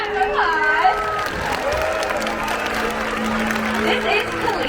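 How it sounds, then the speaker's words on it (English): Crowd applause and cheering from the audience at a SeaWorld San Diego orca show fills the stands steadily throughout, with scattered shouts, distant voices and an announcer's tones mixed into the dense, continuous clapping. "Everybody give her a big round of applause."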